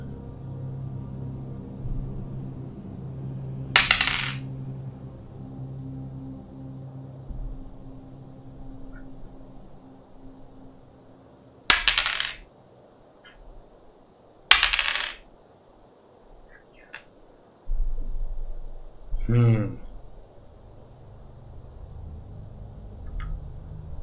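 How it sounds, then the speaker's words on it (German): A single die is rolled three separate times for a Skyrim character-creation choice, each roll a short, sharp clattering rattle up close, separated by quiet pauses. "Ich lasse den Würfel entscheiden."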